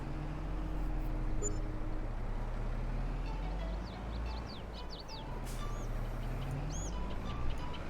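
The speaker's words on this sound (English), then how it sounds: "The birds are louder than the engine because I'm not all up in its grill." Birds chirp and call steadily over the low, continuous drone of a farm vehicle engine in the Farming Simulator 22 video game, the birdsong standing out above the quieter engine hum.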